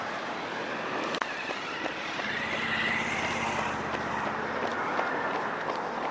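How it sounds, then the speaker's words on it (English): Steady roar of road traffic streaming past a runner on a wide roadside sidewalk along Gorge Road, a continuous broad hiss with a passing vehicle swelling in the middle, moderately loud and with no talking. "So as you can hear, I'm on Gorge Road now, running facing the traffic on the sidewalk"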